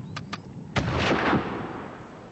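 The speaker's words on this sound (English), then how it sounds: "The Boers now used a signaller on Spion Kop to direct their artillery fire precisely onto the British trench." Boer artillery fires on a British trench at Spion Kop in 1899-1902, with two quick sharp reports and then a heavy boom that rumbles and fades.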